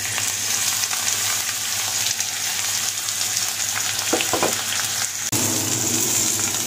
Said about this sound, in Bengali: তেলটা আমি কম দিয়ে ভাজছি